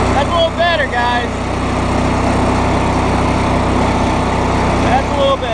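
A Cub Cadet 3000 Series lawn tractor engine runs steadily with the choke off, a loud, close, even droning hum throughout, with a person talking briefly over it.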